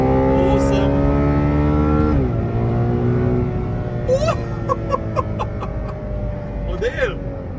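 A Ferrari engine revs hard toward 9500 rpm, a loud, close, rising howl that drops sharply and then climbs again through the gears, with someone talking over it.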